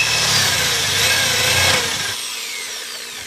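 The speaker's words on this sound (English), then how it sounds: "we're ready to drill out the bolt holes" Power drill boring bolt holes through a Kawasaki Ninja motorcycle fairing, a loud steady whine that runs close up for nearly two seconds, then drops away into quieter room noise.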